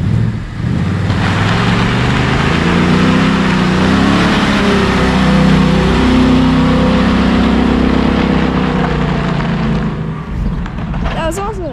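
An all-wheel-drive 2017 S550 Mustang built as an American GTr drives through snow, its engine roaring loudly as it revs and accelerates, the drone rising and falling over about ten seconds before easing off.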